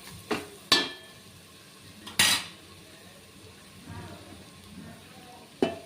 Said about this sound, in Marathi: आता याच्यात मी या चवळ्या टाकते।